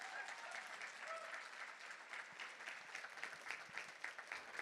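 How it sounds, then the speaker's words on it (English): Conference audience applauding steadily throughout, a dense continuous patter of clapping at moderate distance with no talk over it. "One more round of applause."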